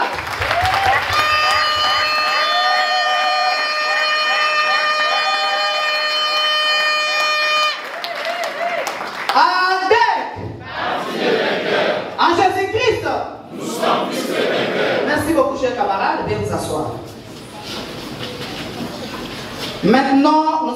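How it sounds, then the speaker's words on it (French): Crowd at a political party meeting cheering and applauding to acclaim comrades, loud sustained roar of voices and clapping after a steady tone, continuing throughout. "On acclame pour nos chers camarades."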